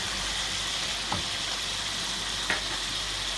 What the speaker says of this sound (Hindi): और अब मैं इसको इसके साथ भून लूँगी चिकन को